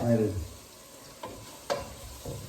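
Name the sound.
curry leaves frying in hot oil for chicken curry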